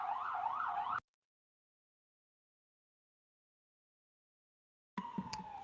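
A wailing siren sweeps up and down briefly at the start, then the sound cuts to silence before returning with faint, distant noise.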